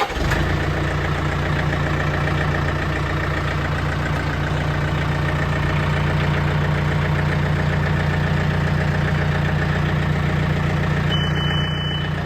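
A vehicle engine idles steadily and loudly at a weld shop building site while being backed up, a constant low rumble throughout with no talk.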